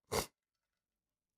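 A single sharp sneeze from a man on a podcast, loud and brief, followed by silence.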